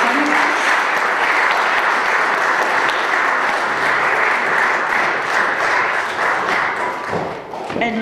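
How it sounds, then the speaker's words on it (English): Church congregation applauding during a United Methodist Sunday service, a dense, steady wash of clapping filling the room for about eight seconds before thinning at the end. "let's just affirm them again with our applause."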